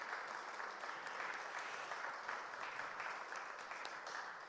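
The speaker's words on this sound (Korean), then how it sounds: "우리 박수 한번 치겠습니다" A church congregation applauds at a retirement service, a continuous, even wash of clapping that sounds somewhat distant and soft, with no voices over it.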